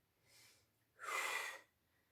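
Breath drawn in during a step and weight fitness class: a soft short breath, then a longer, louder inhale close to the microphone, with silence around them and no talking.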